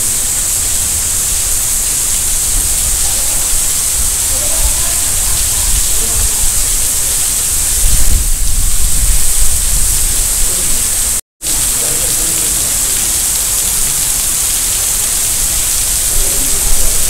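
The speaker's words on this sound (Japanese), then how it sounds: "雨すごいね。" Heavy rain pours down around a gazebo roof during a morning outing with elderly dachshunds, a loud, continuous roaring hiss with a brief surge in the middle and a moment of dropout.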